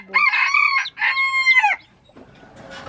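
A Rhode Island rooster on a farm crows loudly and close by, two drawn-out harmonic calls in quick succession, followed by fainter background noise.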